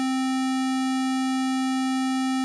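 A steady square wave tone from a synthesizer keyboard plays alone, a hollow, buzzy held pitch rich in strong upper partials, cutting off sharply at the end.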